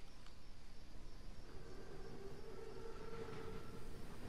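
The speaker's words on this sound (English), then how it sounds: "Thickest train I've ever seen. Thickest armor too. It's a Panzerzug." Armored German train, a Panzerzug, in the World War II video game Call of Duty WW2, giving a steady low rolling rumble with a faint whistle-like tone partway through, distant and continuous.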